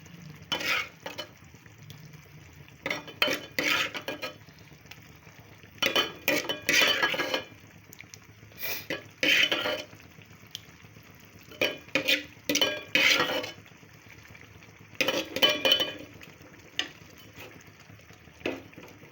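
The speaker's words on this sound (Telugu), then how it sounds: "ఇప్పుడంతా గోంగూర అంతా వేసాను ఇప్పుడు చక్కగా కలుపుకున్నాను" A spoon stirs gongura prawn curry in a pot, repeated bursts of scraping and clinking against the metal with a soft sizzle between strokes, close and clear with no talking.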